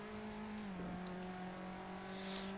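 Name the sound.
race car engine revving in the Assetto Corsa video game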